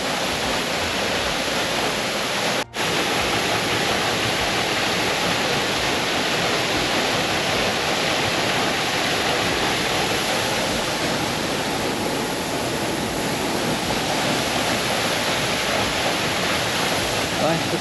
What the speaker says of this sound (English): I do love a waterfall.